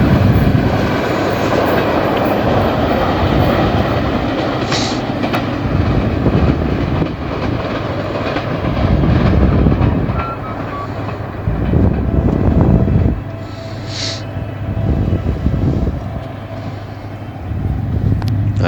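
A GMU 30 diesel locomotive, number 8220, passes hauling a train, with a loud continuous rumble of engine and wheels, rhythmic clickety-clack from the wagons and brief high squeals, close and sustained throughout.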